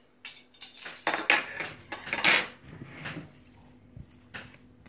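Metal spoons clink and rattle against each other and a dish as one is picked out, a cluster of bright jangling clatters up close, fading into a few softer taps, with no talking.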